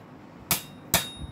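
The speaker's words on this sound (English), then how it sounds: "rest both sides on the anvil and hit that down like this" A metal hook being hammered on an anvil, two sharp ringing strikes about half a second apart, close and loud with a metallic ring that decays between blows.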